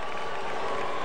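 A scattered smattering of applause rises from the crowd at a Cardinals at Brewers baseball game in Milwaukee as Albert comes to bat, a brief, steady wash of distant clapping.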